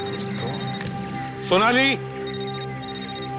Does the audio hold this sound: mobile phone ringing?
yes